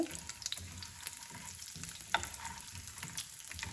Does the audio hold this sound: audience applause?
no